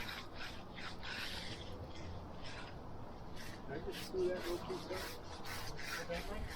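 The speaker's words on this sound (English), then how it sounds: "You can see how Luke kind of scrapes up a little bit of the surface with that edger." A concrete edger scrapes along a fresh concrete slab edge, making a continuous gritty rasping that runs under a voice talking nearby.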